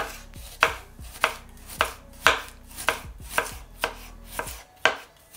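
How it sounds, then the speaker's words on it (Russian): A knife slicing a large onion on a cutting board, about nine crisp, evenly spaced strikes, close and clear with no voices. "Одну крупную луковицу нарезаем или полукольцами, или вот так вот перьями"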